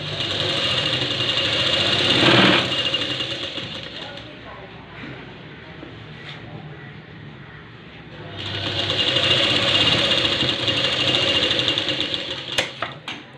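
A sewing machine runs close by, stitching a quarter-inch seam in blouse fabric with a loud, steady mechanical whir in two long bursts separated by a quieter pause with faint handling noises.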